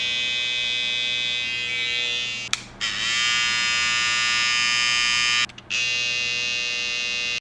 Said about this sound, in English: let me just do a quick sound test of the trimmers. So this is the BaByliss FX. And this is the Tpob XO.